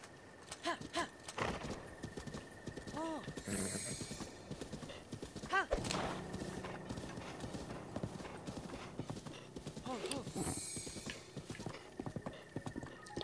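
Horse hooves clip-clop in a steady rhythm while a horse is ridden in The Legend of Zelda: Breath of the Wild, with a few whinnies and game music mixed in and someone talking over parts of it.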